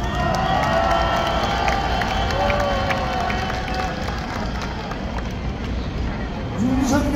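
A large outdoor crowd at a nationwide protest rally against a presidential veto applauds and cheers in a steady, dense roar that holds for about seven seconds, with shouts scattered through the noise.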